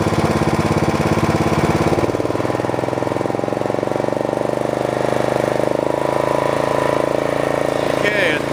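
A Snapper riding lawn mower engine runs close and loud at a steady chugging idle, then throttles up to a stronger, higher drone as the speed is raised, with a voice talking over it.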